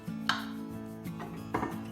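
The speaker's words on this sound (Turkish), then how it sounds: "Şöyle önce ikiye doğrayalım." A knife chops mushrooms on a cutting board in a few sharp, irregular chops, close by, over a steady low hum.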